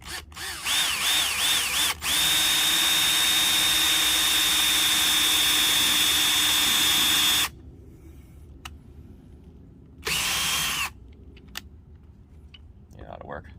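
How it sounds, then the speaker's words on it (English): A power drill bores into an old car windshield close up, with a loud steady whine held for several seconds after brief spin-ups and then a second short burst, with people talking nearby. "So I'm gonna drill into it,"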